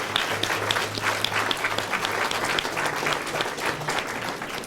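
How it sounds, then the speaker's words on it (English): An audience claps for a community band at a spring concert, with dense, steady applause and scattered individual claps close by. "One more round of applause for that wonderful band."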